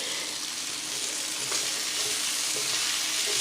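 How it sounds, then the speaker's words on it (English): Green beans sautéing uncovered in a pan on high heat give a steady, bright sizzle and crackle, close and continuous, with a faint clink partway through. "you just leave the lid off and let them saute on high temperature"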